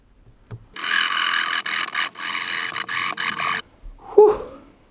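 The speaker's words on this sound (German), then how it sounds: "Wir nehmen einfach eine Säge." A saw cuts into the casing of a Piexon Guardian Angel or Walther PGS pepper spray device. Close, loud rasping strokes run steadily for about three seconds with brief breaks, then a short scrape and clatter follow.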